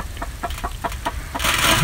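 Chickens clucking nearby in a winter off-grid yard, a quick run of short rhythmic clucks followed by a brief burst of rustling noise.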